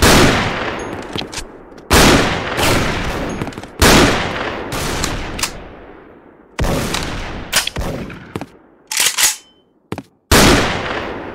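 An M82 Barrett rifle fires in the Special Force video game, about eight loud, sharp single shots spaced a second or two apart, each trailing a short echoing decay, separated by near silence.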